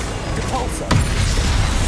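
Depulso spell fired in Hogwarts Legacy, a sharp, sudden impact blast cutting through steady game rumble, loud and close, followed by continued low booming.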